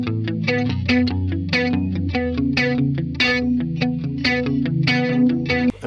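A clean-tone electric guitar plays a steady run of plucked notes and chords with a shimmering chorus-like effect, bright and continuous with no talking.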